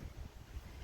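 Faint gusts of wind on a cold 37-degree morning buffet the microphone in a brief, low rumbling whoosh with no other sounds.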